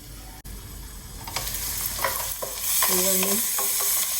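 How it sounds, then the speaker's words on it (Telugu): Chopped onion sizzles in a pan while cooking okra tamarind stew, with a steady hiss of frying under scraping stirs and a few clinking utensil touches and ringing tones, close and fairly loud. "బెండకాయలు కోసేలోపు మనకి ఉల్లిపాయ వేగిపోతుంది చూసారా"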